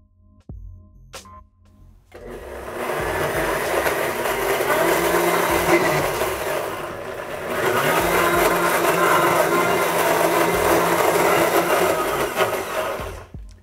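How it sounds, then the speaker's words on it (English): Blender whirring loudly as it blends frozen fruit with water, starting after a brief clatter and running in two long continuous bursts with a short dip between them. "let's add a little bit of water just to make sure the blender gets going"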